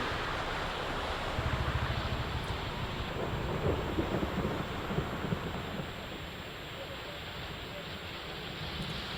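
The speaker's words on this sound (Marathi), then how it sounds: "जिल्ह्याच्या अनेक भागांमध्ये पावसाने जोरदार हजेरी लावली आहे" Heavy monsoon rain pours steadily in Maharashtra, a dense close hiss with deep thunder rumbling low beneath it through the middle of the downpour.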